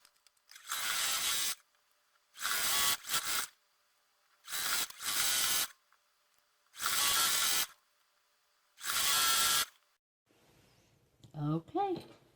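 A sewing machine stitches a quarter-inch seam on quilt pieces in five separate whirring bursts with quiet pauses between them, followed by a short spoken phrase at the end.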